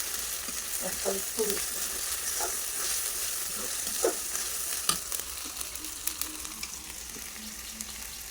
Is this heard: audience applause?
no